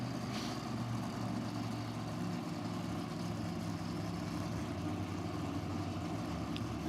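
A drag racing car's engine running at Sydney Dragway, a steady, rumbling idle with deep low-end throb, continuous and fairly distant, with no talk over it.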